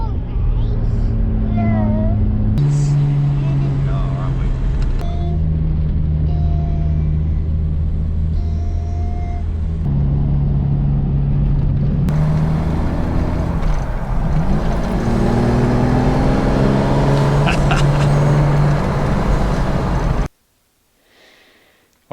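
A Jaguar MK2 with a rebuilt engine runs with a steady, close, low rumble beneath someone talking throughout, then cuts off abruptly near the end.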